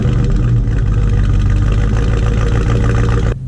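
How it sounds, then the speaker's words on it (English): Dodge Charger sedan with a V8 engine and aftermarket exhaust, a loud, steady low rumble running continuously, close up, with no talk, cutting off just before the end. "It's probably about time we hear what that exhaust sounds like,"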